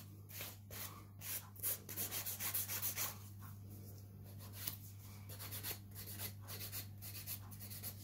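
A 240 grit file rubbing across a nail wrap in quick back-and-forth strokes, close and quiet, with short bursts of scraping separated by brief pauses and no talking.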